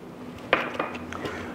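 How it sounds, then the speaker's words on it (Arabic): A mixing bowl used for kneading ka'ak dough is set down with a single bright clatter, followed by a couple of lighter clinks on a kitchen counter, close and fairly quiet. "حرجع البولة بهذا الشكل أو الصحن اللي كنا نعجن فيه"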